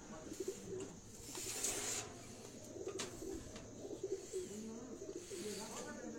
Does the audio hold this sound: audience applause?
no